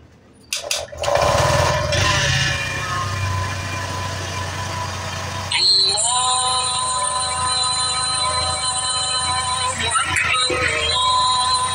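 A Honda Vario 125 scooter engine, which has trouble staying running when the throttle is opened, cranks and catches, then idles steadily up close, with a brief shift in tone midway and a buzzing electrical whine over the idle.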